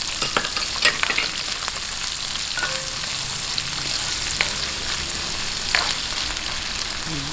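Onions frying in a pan for a pork rib dish: a close, steady sizzle with scattered pops and occasional light stirring clicks, no talking.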